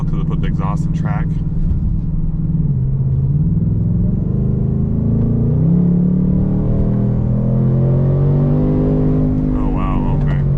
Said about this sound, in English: It looks like I opened up the exhaust as well,